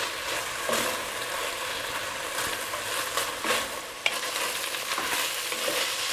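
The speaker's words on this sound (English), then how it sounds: "So just keep cooking that pork. We'll get a good brown on it." Pork browning in a pot, a steady close sizzle and fry with occasional scraping stirs and one sharp clink of a utensil against the pot, no voices.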